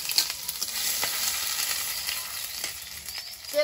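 Bay leaf, dried chilli and grated ginger sizzle steadily in hot oil in a wok, a continuous close, bright frying hiss with small crackles throughout.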